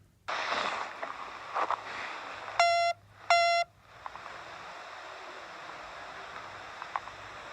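Two short bursts of rapid electronic beeping, a Star Trek communicator ringtone, each lasting about half a second, over faint background noise and handling sounds.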